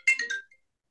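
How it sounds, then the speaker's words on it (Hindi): Phone ringing, a short electronic ringtone burst of a few bright tones lasting under half a second, heard alone and fairly clear. "मेरा ये बीच में फोन बज रहा है"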